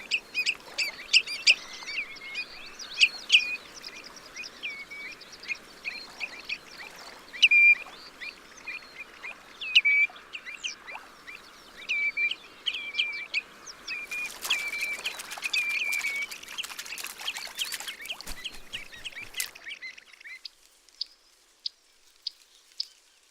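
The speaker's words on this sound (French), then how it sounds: "Quelques échasses blanches cohabitent parfois avec les avocettes et les mouettes rieuses, profitant ainsi de la relative sécurité qu'offrent ces colonies." A colony of black-winged stilts, avocets and black-headed gulls on the Seine calls continuously, with dense overlapping shrill cries and yelps, some close and loud, others farther off, fading out near the end.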